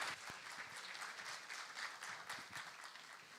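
Audience applause after a memorial lecture at a Korean water resources academic conference, a steady wash of many hands clapping at moderate distance for several seconds, with no voices.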